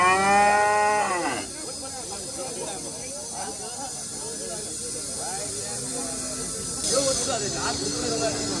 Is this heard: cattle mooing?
yes